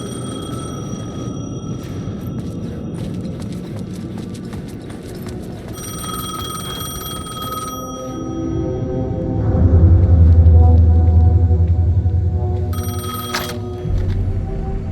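In the Alan Wake II video game, a telephone bell rings in repeated bursts, loud and close, over a dense, dark ambient score with a deep rumbling swell partway through; no one speaks.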